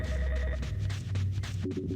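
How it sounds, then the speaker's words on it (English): A 1990s landline telephone rings in the video game Jet Force Gemini, with rapid trilling bursts that sound fairly close over dense game music and background noise. "the 90s landline phone starts ringing in"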